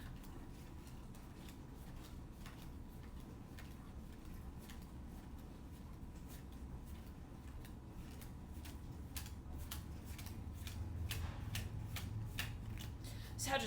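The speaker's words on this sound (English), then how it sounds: "I'm going to shuffle these cards" A brand-new tarot deck is shuffled by hand, a continuous run of quick crisp riffling flicks at close range that grows a little louder toward the end.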